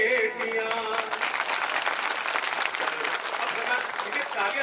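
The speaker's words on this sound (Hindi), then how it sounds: "मुझे तालियां चाहिए, कविता पढ़ने वाले को तालियां चाहिए" Hall audience clapping for a poem recitation at a Sardar Patel anniversary gathering, dense continuous applause of moderate loudness with some voices mixed in under it.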